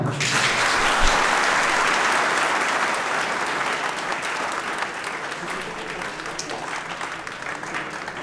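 An audience claps continuously and loudly for several seconds, a dense, even wash of applause that fades slightly toward the end.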